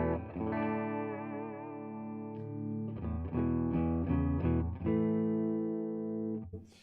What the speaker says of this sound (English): Now, we're in overdrive mode. We're playing into a PRS Archon.